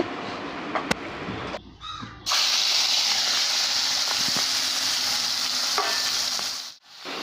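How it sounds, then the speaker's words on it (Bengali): Prawns rubbed with salt and turmeric hitting hot oil, a sudden loud steady sizzle with a few spatula scrapes and stirs, close up, and no voices. "চিংড়ি মাছটা 2 থেকে 3 মিনিটের মতো নাড়াচাড়া করে নিলেই দেখবে এর মধ্যে থেকে জল বের হয়"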